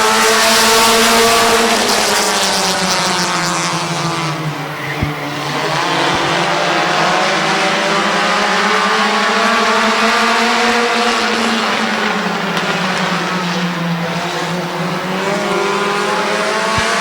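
A pack of race cars roars through an eight-lap heat race at Midvale Speedway, engines droning loud and close, pitch swelling and dropping in waves as the cars circle past.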